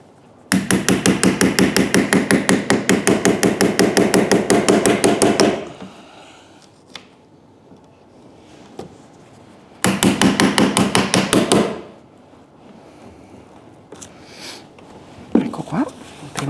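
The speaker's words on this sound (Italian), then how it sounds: "Mi aiuto con un martello perché è veramente tanta e dura." Rapid, steady hammer blows striking a chisel into the wood of an old cupboard in two long runs, separated by a pause filled with faint scraping and knocks.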